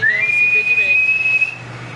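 Referee whistle ending the first half in a football video game, one long sustained high blast lasting over a second, with faint crowd ambience beneath.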